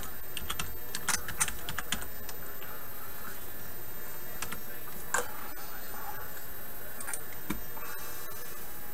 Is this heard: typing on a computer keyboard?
yes